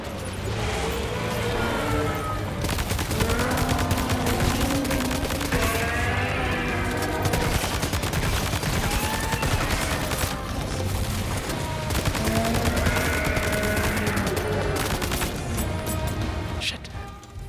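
Rifle gunfire in Death Stranding 2, dense rapid bursts of shots crackling continuously at close range, with a voice heard in the mix.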